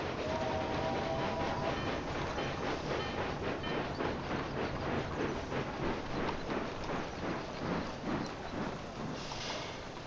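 A cargo train in the Railway Empire 2 video game rolls along steadily, its wheels making a regular clickety-clack rhythm over a constant rumble, with no talk.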